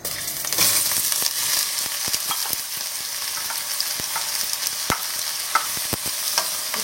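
Onions drop into about three tablespoons of hot oil for a Goan pork curry and fry with a loud, dense sizzle. Crisp clicks of a spatula against the pan come through the sizzle, and nobody talks.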